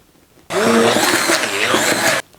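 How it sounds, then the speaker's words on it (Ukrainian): An immersion blender whirs steadily through a cottage cheese mass for just under two seconds, starting and stopping abruptly, close and loud. "Перебиваємо все це занурювальним блендером до однорідної консистенції."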